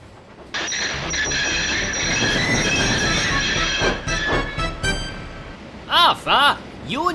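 A long, high metallic squeal of train wheels grinds on over rumbling railcars as a train enters a yard too fast in the Trainz simulator, then a few sharp whining squeals close out the passage.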